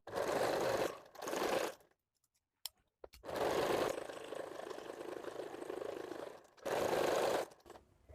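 A sewing machine stitches a blouse in bursts of steady whirring, starting and stopping several times with silent pauses and a sharp click between runs.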